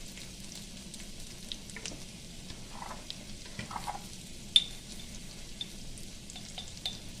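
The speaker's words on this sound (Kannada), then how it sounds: "ಫ್ರೈ ಮಾಡುವ ಇದನ್ನು ಸ್ವಲ್ಪ 1-2 ನಿಮಿಷ." Coriander powder, cumin and spices sizzle in a pan for a mutton masala gravy, a steady soft frying hiss with occasional stirring scrapes and small pops, close and without speech.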